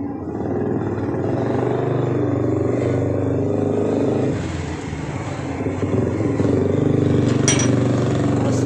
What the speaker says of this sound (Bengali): আর এই যে বাইকের আওয়াজ না,